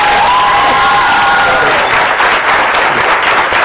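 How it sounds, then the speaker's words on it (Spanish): Loud audience applause and cheering at a Cuban music event honoring a reggaeton record of the year, dense clapping with crowd shouts, close and sustained throughout. "Yo pido un aplauso"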